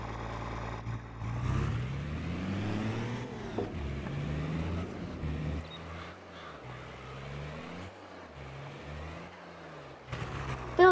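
A truck engine runs in the Farming Simulator 22 video game. It makes a steady low drone whose pitch rises and falls as the revs change, with faint mechanical hisses and no talk.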